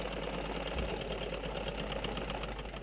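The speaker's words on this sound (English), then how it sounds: "The chattering of Oluwatosin Adepoju's sewing machine" Oluwatosin Adepoju's sewing machine chatters in a steady, continuous mechanical run with a fast repeating rhythm, loud and close, with no talk over it.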